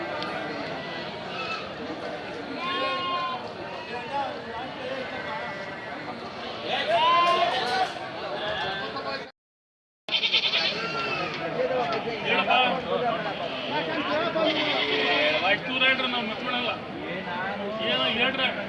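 At the Tuesday sheep and goat market in the Tumakuru APMC yard, animals bleat again and again amid busy crowd chatter, with people talking loudly close by throughout.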